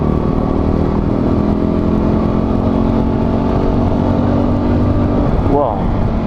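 A Fantic Caballero Flat Track motorcycle engine hums and pulls continuously while riding, with a rising pitch sweep near the end suggesting a gear change, heard under a rider talking.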